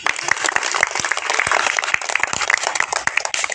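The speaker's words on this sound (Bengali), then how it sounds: "তালি মারবো, হাত তালি মারবো" Hand clapping during a comedic snake-handling act, a run of sharp, distinct claps from several hands, close and fairly loud, spread steadily through the stretch with no talking over them.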